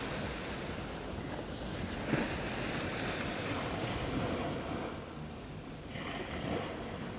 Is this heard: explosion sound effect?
no